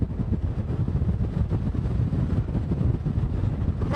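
Strong Category 1 hurricane gusts near 90 miles per hour roar in a loud, constant buffeting rush that batters the microphone, with no voices over it.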